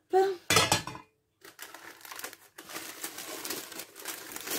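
A frying pan clanks and scrapes as an apple cake is flipped over, with a couple of sharp metallic knocks followed by sizzling and shuffling kitchen noise.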